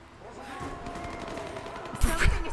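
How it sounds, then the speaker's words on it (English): Gunfire crackles in a burst near the end of a battle in Rise of the Tomb Raider, loud sharp shots following a stretch of tonal background and faint battle noise. "Sounds of gunfire in battle."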